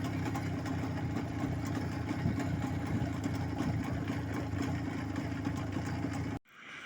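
A Jawa 634 motorcycle engine drones steadily while riding on the road, a continuous loud mid-pitched hum with wind noise, cutting off abruptly just before the end.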